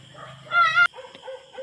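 A tied-up dog gives a short burst of high, strained yelping barks lasting about a third of a second, fairly close, followed by quieter scattered whimpers against a low background hum.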